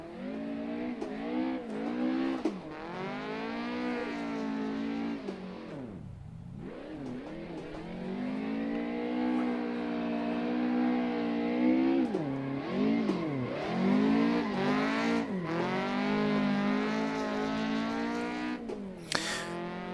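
A car's engine revs and wails continuously while drifting in the Assetto Corsa racing game, its pitch sweeping up and down with throttle and a brief dip midway, loud and close with no talk.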